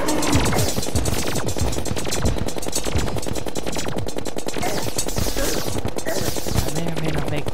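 Rapid, continuous automatic gunfire in the game Terraria rattles without pause, dense and loud, with bursts layered over one another throughout.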